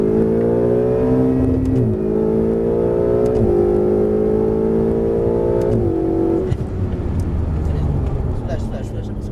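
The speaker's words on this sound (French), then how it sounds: "Allez, on accélère, ligne droite." Ferrari 488 on the Circuit du Castellet straight: engine revs climb steadily through three gear changes with brief dips between, then lifts off into a lower rumble, loud and close, with an instructor talking over it.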